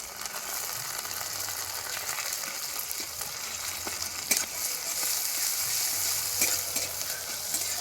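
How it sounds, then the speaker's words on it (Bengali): Garlic paste fries with onion in oil, making a continuous close sizzle broken by light scraping and clicking from stirring. "এবার রসুন বাটা দিয়ে দিব।"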